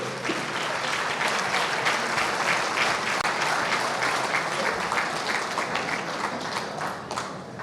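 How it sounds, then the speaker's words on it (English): Steady, dense applause from an audience at a community event honouring a guest, continuous clapping throughout at moderate distance with no talking over it, tapering slightly at the end. "Let's have one round of applause for our Honorable Robert Ray."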